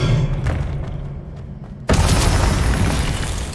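A spell is cast in Hogwarts Legacy: after a rumbling game background, a sudden loud burst lands partway through and its bright crackling wash holds to the end.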